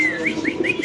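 A male pigeon at a breeding farm gives a quick run of rising, throaty coos, close and clear in under a second.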